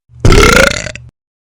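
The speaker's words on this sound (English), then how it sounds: "opened his mouth, and let out a tiny blurp" A tiny burp from a small monster character, a short, voiced belch lasting under a second and sitting close and loud against near silence.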